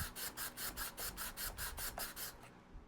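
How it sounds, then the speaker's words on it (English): Sandpaper rasps back and forth over the fuselage of a Strega F3F RC glider during repair, about a dozen steady rhythmic strokes, close and alone. "now you can sand until the spinner fit perfectly to the fuselage"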